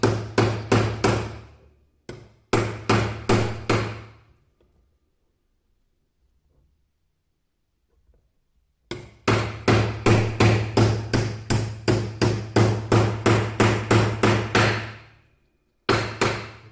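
Steady hammer blows ring out in quick runs, a long pause, then a longer sustained series of sharp metallic strikes, loud and close, driving a part into a Mercedes LK 710 truck brake booster.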